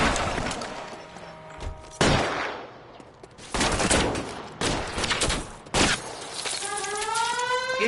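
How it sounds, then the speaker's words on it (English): Suppressing gunfire hammers out in loud, repeated bursts with sharp crashes between them, and a ringing, warbling tone rises near the end. "suppressing fire"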